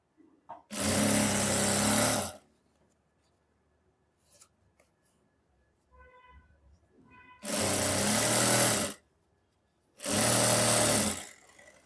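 Trouser fabric fed through a sewing machine, three loud sustained bursts of stitching separated by quiet pauses with faint handling noises.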